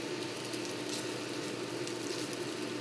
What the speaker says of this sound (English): We're gonna hear that sizzle, and that's what we're looking for.